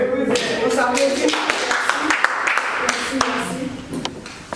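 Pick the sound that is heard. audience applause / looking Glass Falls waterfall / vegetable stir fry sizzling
audience applause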